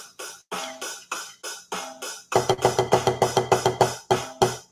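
Drum strokes in a quick, even eighth-note pattern, sparse at first and then a denser, louder run of evenly spaced hits, close and dry.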